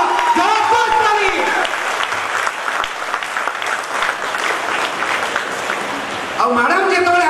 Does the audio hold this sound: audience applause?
yes